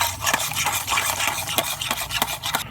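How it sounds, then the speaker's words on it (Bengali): Milk powder is stirred into warm milk in a pot, making repeated close rubbing and scraping strokes in a quick irregular rhythm, loud and alone. "এবার দুধের সাথে এই গুঁড়ো দুধটাকে খুব ভালো করে মিশিয়ে নেব।"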